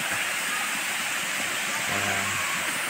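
Steady broad rushing of Yaganak Falls fills the clip, a constant loud roar with no pauses.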